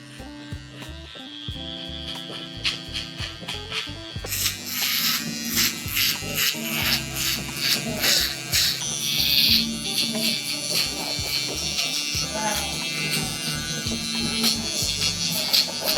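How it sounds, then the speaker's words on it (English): An electric shaver buzzes steadily while blending a hair fade, starting quieter and then pressing closer with rougher, fluctuating buzzing through to the end. "So I'm gonna go with my shaver here"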